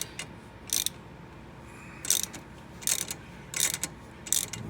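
Three-jaw puller being tightened on a Dodge 5.9L timing sprocket: five short bursts of ratchet clicking, evenly spaced and fairly close, over a quiet background with no talk.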